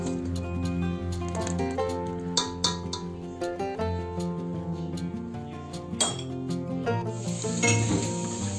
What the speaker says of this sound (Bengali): এইভাবে প্রায় নাড়তে হবে যাতে তলায় লেগে না যায়।